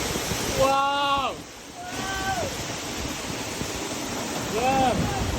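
A waterfall in the Bwindi rainforest of Uganda gives a constant broad rushing roar close by, while excited voices exclaim over it.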